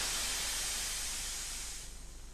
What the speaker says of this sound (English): Thomas is wheezing out steam.